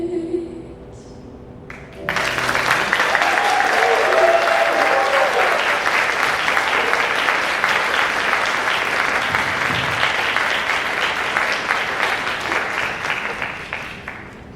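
Audience applause at a virtual school graduation ceremony starts abruptly after two seconds of quieter sound and holds as dense, steady clapping from a large crowd for the rest of the stretch, with a faint voice early on.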